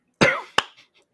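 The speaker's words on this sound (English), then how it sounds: "I got another cough coming" One sharp, close cough followed quickly by a second shorter one, then a few faint breathy sounds.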